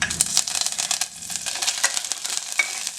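Hot oil crackles and sizzles steadily as curry leaves go in, with bright popping bursts, close by and fairly loud, with no voices.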